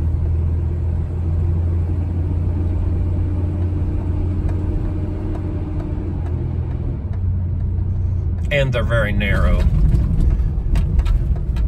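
A 1995 Nissan D21 truck driving through narrow small-town streets, its engine a steady low rumble throughout, with someone talking over it.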